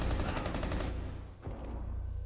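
Rapid automatic gunfire from a Rainbow Six Siege round, a teammate caught in the burst, loud and dense at first, then a brief gap and more steady rattling shots.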